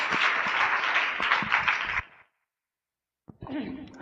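A church congregation at a Good Friday gathering claps to welcome a speaker, a dense, close round of applause lasting about two seconds, cut off into silence before talk and noise resume.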